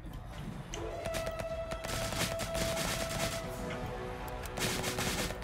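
Gunfire in the zombie survival game Nearly Dead: Live and Let Die, a steady run of rapid shots in the mid-distance with a sustained electronic tone running under part of it.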